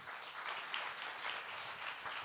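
Audience applause in a hall after a talk on an augmented-reality magazine edition, a steady, fairly faint wash of many hands clapping without a break and with no voices.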